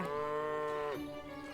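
A cow in the farming game Everdream Valley gives one long, loud moo up close that drops in pitch near the end, with nothing else heard alongside it.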